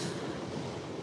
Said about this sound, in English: that's a train going past